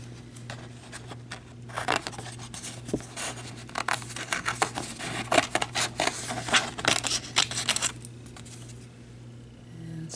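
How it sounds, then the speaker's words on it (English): Scissors rough-cutting pieces of Christmas fabric for vintage snowman ornaments, a close series of irregular snipping and rustling sounds against a low background hum with no voices. "so these are dry, so I'm going to cut this out"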